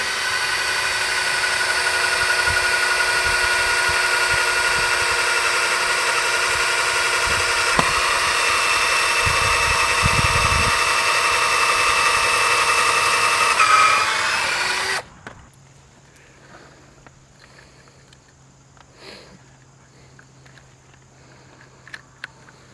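A power drill bores a hole through a square steel tube on an A-frame fence corner, whining loudly and steadily for about fifteen seconds before cutting off, followed by faint handling sounds and a low hum.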